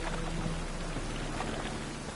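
Rain in The Witcher 3 game, a dense, even hiss of falling drops that holds at a low, steady level for a couple of seconds with no voices.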